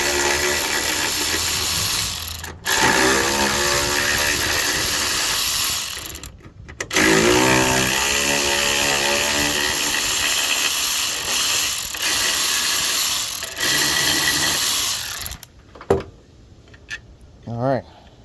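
Hand tools and a ratchet loosening 10 mm bolts on a 1999 Toyota Camry during a transmission swap, a steady close mechanical clatter with short pauses and a few sharp clicks near the end.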